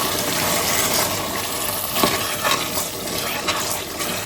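Goan red masala beef curry with potatoes and vinegar is stirred in a pot, a continuous wet bubbling and sloshing with a few sharper scrapes, close and steady throughout.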